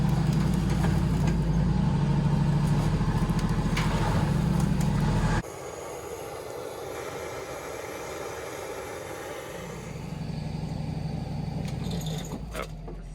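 A small tractor engine rumbles steadily close by as it drives out of a workshop, then drops to a quieter idle-like hum before the low drone swells again.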